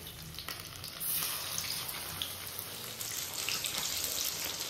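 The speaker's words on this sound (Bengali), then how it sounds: "আর এখানে তেল বসিয়ে দিয়েছি একটু বেশি করে, এটা ছাকা তেলেই ভাজলে ভালো হয়" Food frying in a generous amount of oil in a pan gives a close, steady sizzle and crackle with no voices.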